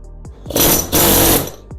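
An impact wrench hammers in two short, loud rattling bursts with brief clicks between them, close up, trying to loosen a stuck bolt on a 1992 Ford Ranger.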